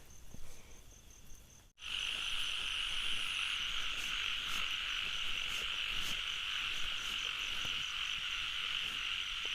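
Frogs croak after the first rain of the year, caught with a cast net. After a brief noisy moment, a dense, loud and steady chorus of croaking with insect-like trilling starts abruptly and carries on without pause.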